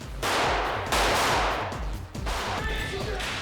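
Bullet effects fire during the Hel nightclub shootout on the set of The Matrix Revolutions: dense, loud bursts of sharp cracks crowd together, close and overlapping, with barely a gap between them.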